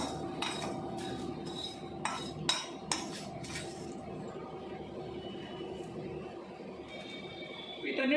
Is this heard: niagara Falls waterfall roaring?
no